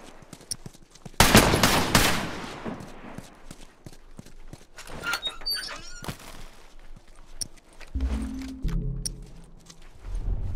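Rifle gunfire in The Last of Us, sharp shots with a loud burst early and scattered cracks later, amid rumbling movement and faint game ambience.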